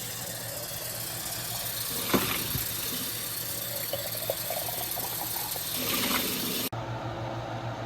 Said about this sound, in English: And then you rinse them.